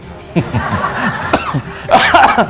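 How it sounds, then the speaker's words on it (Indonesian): A single short cough-like burst with a bit of throaty sound around it, close to the mic, followed by a louder breathy vocal noise. "Sebentar, saya batuk."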